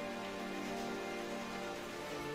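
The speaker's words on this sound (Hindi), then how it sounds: "अंधेरी रात को घने जंगल में कड़कड़ाती बिजली और मूसलाधार बारिश के बीच" Steady, dense rain pours without pause as a cartoon storm effect, a continuous heavy hiss with no separate thunder strikes.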